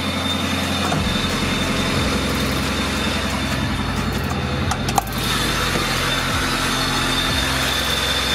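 A $500 Honda Civic engine idles while warming up, a steady low rumble with a regular pulsing beat throughout and a brief knock near the middle, no talking.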